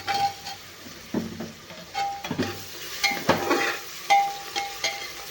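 Ginger garlic paste with tomato and onion sizzles in a pan for a vegetable biryani, with intermittent scraping stirs and soft clinks of a utensil against the pot.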